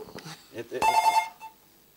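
A telephone rings into a radio call-in show, one short burst of repeated ring tones sounding near and clear right after talk, then fading out.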